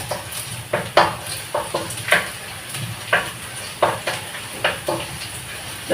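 Garlic and onion sauté in a hot pan with a steady close sizzle and hiss, broken by regular scrapes and knocks of a spatula stirring against the pan.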